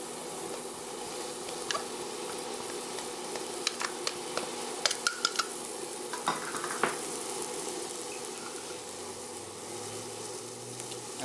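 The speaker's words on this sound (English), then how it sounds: "Now on a medium-high stovetop, we're going to add about a ½ tablespoon of olive oil. Now to that, we're going to add our minced onion." Minced onion sizzles in about half a tablespoon of olive oil on a medium-high stovetop, a steady frying hiss broken by a few clicks of stirring, close and without talk.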